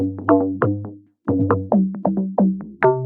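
A melodic sample of plucked, bell-like notes with its low end cut away, sounding thinner; a run of bright notes plays, breaks off for a brief pause, then resumes in a quick ascending sequence, each note decaying fast.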